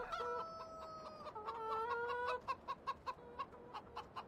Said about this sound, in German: Hühner! Die sind noch munter.